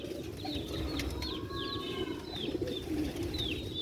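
Black-faced Sialkoti pigeons in a loft, a large male and a smaller female, cooing under a steady murmur of background noise, with brief higher bird chirps scattered throughout.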